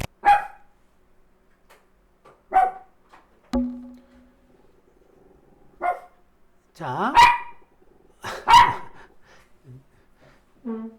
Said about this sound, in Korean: 저희 강아지가 뭐가 마음에 안 드나 봐요.